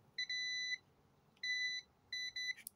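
A Parkside pen multimeter set to continuity, with a crocodile clip fitted, testing a moped bulb filament gives faint, clean electronic beeps: one long tone, a pause, then another long tone and a short broken burst.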